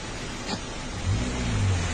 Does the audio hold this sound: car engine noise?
yes